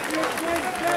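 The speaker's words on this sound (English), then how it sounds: "the Quinns get the victor's applause for the first time" A crowd applauds the winning team, a dense, steady wash of clapping up close for a brief moment, with voices mixed into the noise.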